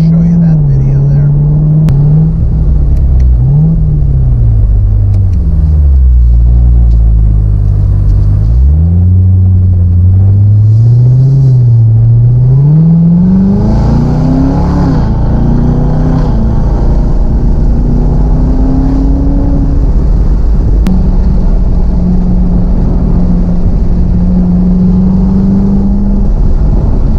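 A 2017 Chevrolet Corvette Z06 engine revs up through the gears with paddle shifting, pitch climbing then dropping with each quick shift, a loud close rumble throughout.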